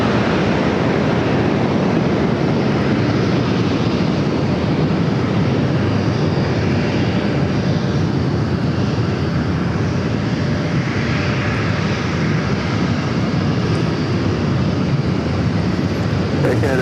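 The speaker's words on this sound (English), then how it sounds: "United Airlines flight 1826 coming in from Newark, also 737 MAX 8" A United Airlines Boeing 737 MAX 8 coming in to land at San Diego airport, a steady broad jet roar that holds loud throughout with wind-like rushing, heard from the spotting area.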